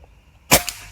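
A single sharp crack from a Blacan X-2 air rifle firing at a target, a brief loud snap with a quick small knock following, set against near silence.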